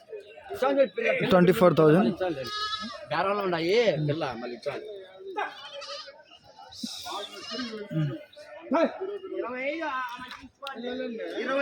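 Goats bleat repeatedly, loud and close, several adults and kids calling over one another in wavering cries through most of the stretch, at a livestock market in Kadiri.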